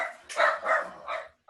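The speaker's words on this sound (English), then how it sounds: "That was my dogs." A pet dog barks a few times in a short, sharp burst inside a home, the barks close and fairly loud with brief gaps between them.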